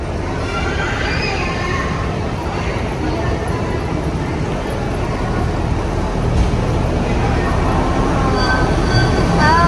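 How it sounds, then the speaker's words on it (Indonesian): Loud, steady rumble of a steam tourist train running close by, with continuous mechanical clatter and roar, and faint voices in the background. "Kita mau naik ini kereta uap."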